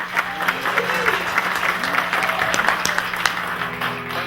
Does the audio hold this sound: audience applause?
yes